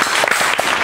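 Brief burst of audience applause on a talk show set, steady and fairly loud with no voices over it.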